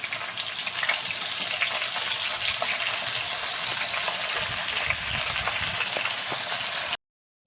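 Chopped jute leaves tossed into potatoes half-cooked and frying over a medium flame, a continuous close sizzle with scattered crackles and light rustling, then an abrupt cut to silence; no speech.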